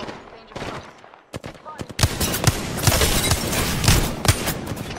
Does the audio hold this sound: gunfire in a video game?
yes